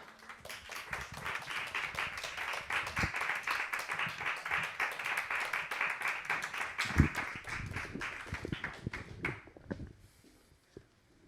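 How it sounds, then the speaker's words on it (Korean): A church congregation claps together to welcome a preacher at a Wednesday evening service, a dense, steady patter of many hands that fades out near the end. "나올 때까지 한번 또 박수로 맞아주시고"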